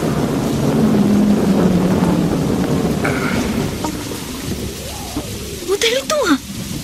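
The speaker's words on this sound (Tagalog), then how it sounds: "Masyado nang malakas ang ulan." Heavy rain gives off a steady loud hiss that thins out partway through, with voices talking over it toward the end.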